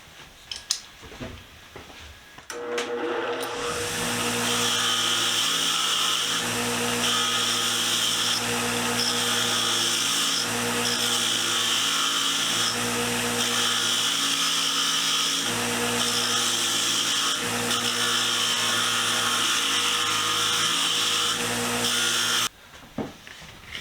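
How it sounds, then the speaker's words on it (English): An old wrench is held against a spinning wire wheel to strip its paint, a loud, steady whirring grind that starts after a few quiet seconds, runs continuously for about twenty seconds, then cuts off. "So I say we take it to the wire wheel and try and get some of that paint off."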